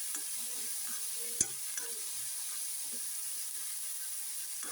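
Vegetables salted and lightly sautéed in a pan for a puff-pastry filling, a faint steady sizzle with soft scraping stirs and one sharp clack of the spoon against the pan.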